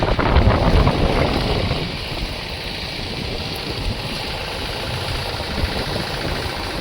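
Strong cyclone wind roars at the coast of Vanakbara, Diu, a steady broadband rush with buffeting on the microphone, loudest in the first two seconds and then a constant gusty roar.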